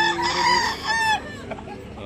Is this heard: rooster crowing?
yes